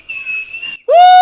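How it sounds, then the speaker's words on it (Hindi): A shrill, steady whistle at a wedding celebration rings out loud and close for nearly a second, stops briefly, then starts again with a rising, even stronger blast. "एक सीटी बजा दे"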